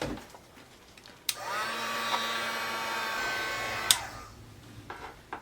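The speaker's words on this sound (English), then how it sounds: "I'm going to speed up the drying process of this VersaMark ink with a heat tool." A heat tool blowing hot air to dry VersaMark ink for a card, a steady whooshing, whining blower that starts with a click and cuts off after a few seconds, close and fairly loud, with no talking.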